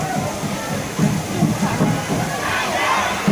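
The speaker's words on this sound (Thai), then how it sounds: "ฝนตกหนักเลยครับช่วงนี้ เล่นไปเล่นมาฝนก็ตกหนักนะครับ" Steady heavy rain hiss pours over an outdoor football match in Thailand, with low crowd murmur and a commentator's voice running underneath throughout.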